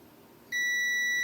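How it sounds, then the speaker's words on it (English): A multimeter on a continuity test gives a single steady, high-pitched beep. It starts sharply partway through and sounds clear and close over faint room noise. "we're just gonna check and make sure we get continuity"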